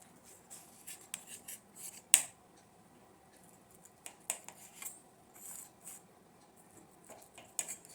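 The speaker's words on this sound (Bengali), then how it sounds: "এখন আমি এই সাইডগুলো কেটে নিচ্ছি।" A knife slicing off the sides of a plantain for kofta, heard as faint, close, intermittent crisp cuts and taps scattered across a quiet background, one sharper chop standing out.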